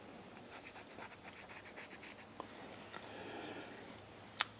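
Pencil marking on a wood carving of a Native American bust, a soft scratchy writing sound in short repeated strokes, close up and quiet, with one sharper tap near the end.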